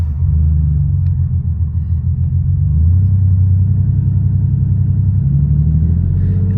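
Porsche Carrera 3.2 flat-six running rough after a blip of throttle, a loud, close, uneven low rumble that surges and wavers in pitch throughout, with no talking.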